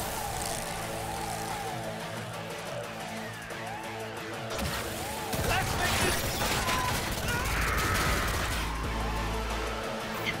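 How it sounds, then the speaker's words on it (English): Shotgun fire in the video game Cyberpunk 2077, heavy blasts and crashes amid a chaotic firefight with other game sounds and voices. "shotgun."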